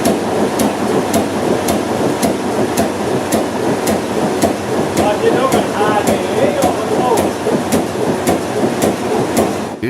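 An old inline multi-cylinder engine with a large flywheel and mechanical fuel injection runs after a cold start, a loud, even, rapid mechanical knocking that holds its rhythm throughout.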